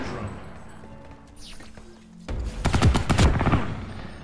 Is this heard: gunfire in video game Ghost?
yes